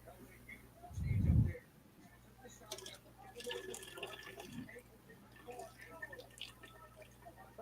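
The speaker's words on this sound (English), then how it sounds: "I was pouring something into a cup" Liquid poured into a cup produces a brief, fairly loud splash of filling near the start, then soft drips and faint clinks under a low background hum.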